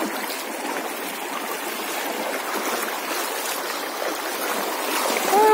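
A river stream flowing over a shallow bed, with a steady broadband rush of water that stays close and loud throughout, and nothing else standing out.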